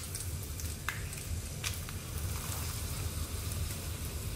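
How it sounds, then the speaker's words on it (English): Mustard seeds and broken red chili sizzle in hot oil in a pan for a prawn roast, giving a steady crackling hiss with a few sharp pops throughout, close and alone without talk. "The heat is on and the oil has got heated. I'm adding the mustard now."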